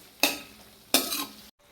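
Homemade hair oil with aloe vera juice and hibiscus is stirred in a pot: two short scraping, sizzling strokes close by, each fading quickly, then a brief silence.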